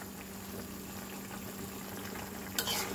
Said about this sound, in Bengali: ঝোলে বলক চলে আসছে